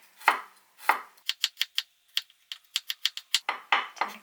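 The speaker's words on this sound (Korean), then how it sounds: "마늘 얇게 편 썰어줍니다." A knife thinly slices garlic rapidly on a wooden cutting board, a quick run of crisp, evenly spaced taps between a few heavier strokes, close and clear.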